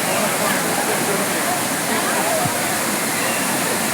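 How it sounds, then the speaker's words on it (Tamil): Water cascades in stages down the Old Courtallam waterfall, a loud, dense, unbroken roar that fills the whole moment at close range. "அந்த பழைய குற்றாலத்தில் அந்த கட் பண்ணியிருக்கிற அந்த அகலம் ஃபுல்லாக தண்ணி விழும்"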